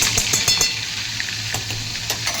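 Sizzling and crackling in white oil in a wok (kadai) as a paneer curry mixture cooks, a steady bright hiss with intermittent stirring clinks and scrapes, close and continuous.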